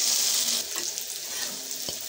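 Chicken frying with potato, capsicum, tomato, onion and garlic in a pan, a steady loud sizzle with a couple of soft stirring scrapes, no talking.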